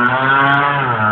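Moped engine revving hard and close, a loud buzzing whine held steady for about a second.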